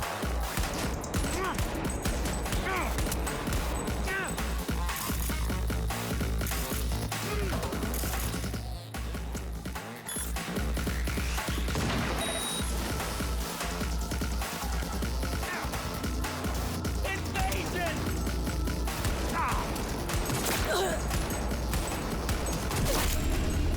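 Gunfire from a sniper rifle and other guns in Cyberpunk 2077, with a dense, continuous barrage of shots and game effects layered over music and a voice talking throughout.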